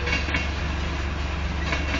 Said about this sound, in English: It's a grain train. It's a runaway grain train.